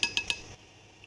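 Whipping cream being mixed in a bowl, with three quick sharp clinks of a utensil against the bowl, then a softer faint scrape fading out.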